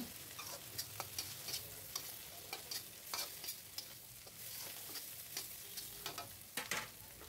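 Tomato sauce frying in a pan while being stirred, a soft, fairly faint sizzle punctuated by regular scraping strokes of a spoon against the pan; no talking.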